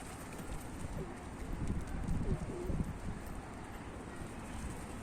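Pigeons coo inside a coop holding newly arrived birds from Mardin, including tumbler and Posta types, a low murmuring coo rising in the middle over steady wind-like background noise.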